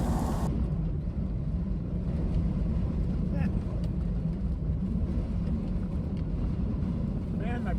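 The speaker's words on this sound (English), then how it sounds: "That tornado sound is the wind whipping through my rolled up windows." Wind roars through rolled-up windows of a four-wheeler driving a desert backroad, a steady, loud broadband rush with low rumble filling the cab, no voices over it.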